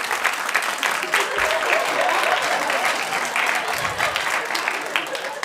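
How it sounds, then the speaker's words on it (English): A live comedy show audience in Munich claps in a continuous, full burst of applause, with a voice talking faintly beneath it. "Clap, Philip, clap."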